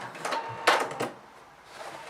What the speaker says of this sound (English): So just sew the first bar tack